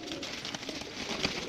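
An aggressive pigeon coos in a loft, a short burst of low throaty cooing close by amid faint background noise, with no talk.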